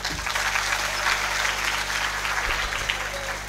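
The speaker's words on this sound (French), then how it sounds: "Des applaudissements encore une fois pour Madame Piong" An audience at a youth opening ceremony in Senegal applauds a speaker, a sustained, even patter of many hands under a low steady hum from the room's sound system.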